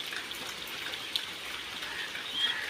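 Heavy rain falls on a village, a steady hiss of drops on surfaces holding evenly throughout at a moderate, distant-sounding level, with no voices.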